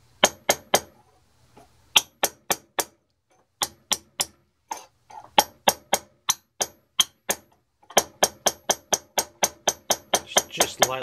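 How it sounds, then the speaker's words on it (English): A small aluminum cylinder is rapped lightly on a part to help Loctite 290 flow into a loose joint, giving crisp metallic taps in irregular groups at first, then a steady faster run of close clinks. "I got a little aluminum cylinder here. I'm just going to give it some raps just to help the stuff flow down a little bit"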